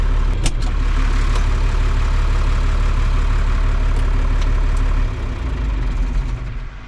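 A farm machine engine idles steadily during an Iowa corn harvest, a loud, close, constant low rumble that drops slightly in level near the end.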